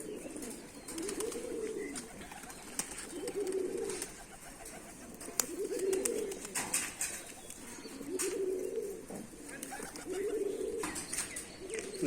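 Rajshahi Giribaz pigeons kept on a rooftop coo in a soft, low, repeated rhythm about every two seconds, with faint clicks and rustles around them and no talk.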